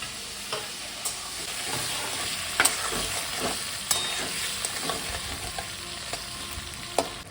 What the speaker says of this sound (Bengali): একদম হালকা খুব হালকা করে মাছগুলো আমি ভেজে নেব